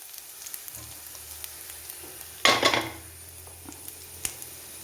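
Leafy greens for a Kerala pathila thoran are tipped into a hot pan and stir-fried. A sudden loud sizzle bursts out midway and fades quickly, with light clinks of cookware around it in an otherwise quiet kitchen.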